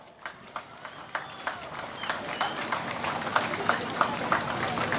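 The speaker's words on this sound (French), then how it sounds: "Je demande qu'on les applaudisse," A crowd at a May Day union rally claps for children in loose, uneven bursts that build and grow denser, mixed with murmuring voices.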